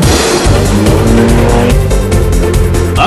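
Ferrari supercar driven hard on a road, a loud, close engine roar with rapid gear changes and rising and falling revs over continuous tire and road noise.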